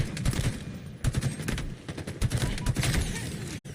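Rapid bursts of automatic gunfire fill a Halo Infinite match, with loud, close shots in quick succession and brief gaps before the firing cuts off near the end.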